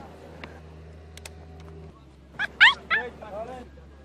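A dog gives a few short yips and whimpering barks near the microphone, set against quiet background sound, after a stretch of low hum and faint clicks.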